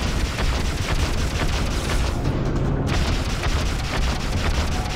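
Torpedo strike on an enemy ship in the space game Freelancer: a dense, sustained explosive roar with rumbling low end and crackling bursts, loud and continuous throughout.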